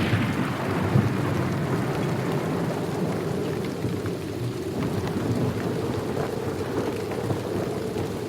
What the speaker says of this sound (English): There's rain and thunder and lightning, and that's how the episode begins.